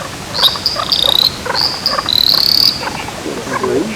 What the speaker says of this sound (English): Perrin's tree frog